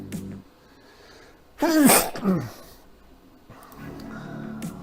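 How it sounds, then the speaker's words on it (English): A single loud sneeze bursts out in the middle, followed by a brief vocal sound, with quiet background noise before and after. "Oh my goodness, I'm gonna sneeze."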